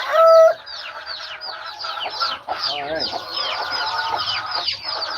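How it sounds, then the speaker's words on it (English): A flock of chickens clucks and squawks busily nearby, a constant overlapping chorus, with a brief spoken word near the start. "Let's get these chickens fed and then they'll quiet down a little bit."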